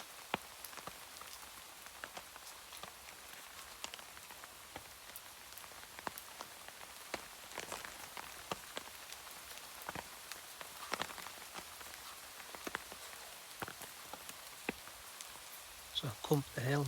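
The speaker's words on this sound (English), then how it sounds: "listen to the sound of the rain, keep dry." Steady rain patters on a tarp in a wet forest camp, a dense hiss of fine drops broken by frequent louder individual drips, continuous and fairly close with no talking.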